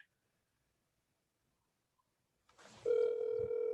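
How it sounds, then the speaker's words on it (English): Telephone ringing on an outgoing call, a steady electronic ring tone starting after a long silence and holding loud and clear, with no voices over it. "It's ringing."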